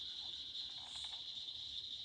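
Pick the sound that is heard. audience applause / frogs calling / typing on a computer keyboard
frogs calling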